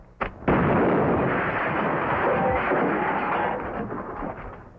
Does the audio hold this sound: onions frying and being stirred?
no